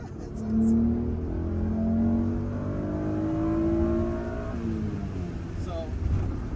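Acura NSX NA1 sports car engine droning and revving while driving, with rising and falling engine tones under steady road noise, heard from inside the cabin.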